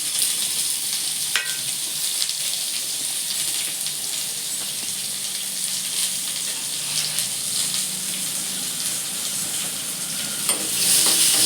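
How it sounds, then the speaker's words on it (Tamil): Onions and green chilies sauté in a pan for a sweet potato stir-fry, with a steady, close sizzle and the occasional scrape of stirring. "வெங்காயம் சேர்த்துக்கலாம். பச்சை மிளகாய் சேர்த்துக்கலாம். இதை நல்லா வதங்கிக்கிறட்டும்."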